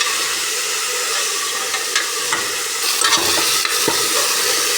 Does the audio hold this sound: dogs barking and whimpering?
no